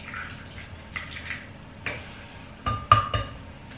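Two eggs cracked into a blender of milk and melted butter for chocolate crepe batter: soft shell taps and clinks followed by a couple of brief splashy drops, close and quiet.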